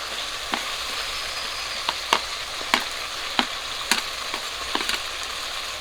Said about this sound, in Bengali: আলুগুলো দেওয়ার পরে একটু কষিয়ে নেব